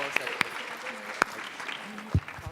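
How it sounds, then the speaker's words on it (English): An audience at a high school event gives a round of applause for a student group, scattered claps and sharp hand strikes over a murmuring room, fairly sparse and modest in volume. "Let's give them a big round of applause."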